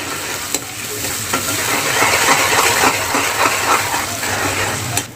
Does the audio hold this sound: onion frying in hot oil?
yes